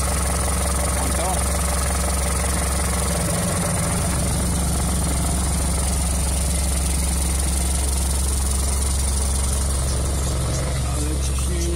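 A car engine idles steadily with the air-conditioning compressor running during a drive belt and tensioner replacement, a continuous low mechanical drone with faint knocking, while someone talks over it throughout.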